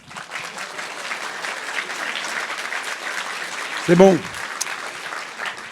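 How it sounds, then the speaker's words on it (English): An audience at a Cannes Film Festival masterclass applauds steadily throughout, a dense even clatter of many hands from a sizeable crowd, with a brief spoken remark near the end. "applaudissements."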